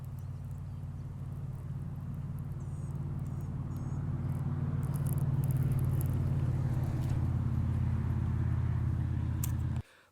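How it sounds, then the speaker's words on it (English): A truck passes through a GoPro microphone as a steady low engine rumble that builds gradually and holds loud and near, with faint high chirps above, then cuts off abruptly at the end. "I'll actually play a clip right now where you can hear a truck"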